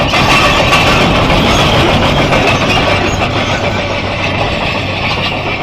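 Loud, dense excavator noise with a steady engine drone and rattling clatter continues throughout, close by and without speech.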